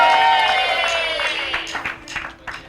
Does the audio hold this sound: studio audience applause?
yes